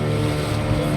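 A hired private boat on Goa's coast near Agonda rides the waves, giving a dense, continuous engine drone with wind and water rush throughout, loud and close, with no pause or letup.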